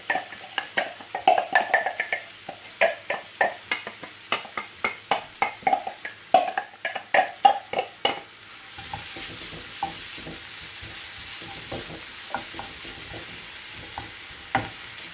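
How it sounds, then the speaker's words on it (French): Sliced onion hitting hot olive oil in a frying pan, with stirring scrapes in a quick run of clatters before a steady, soft sizzle settles in alone. "Donc là j'ai mis de l'huile d'olive dans ma poêle. Je mets un oignon émincé."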